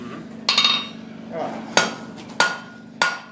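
A blacksmith strikes a hot iron rose stem with a rounding hammer: four sharp, ringing metallic blows at uneven intervals, each decaying quickly, with a low hum underneath.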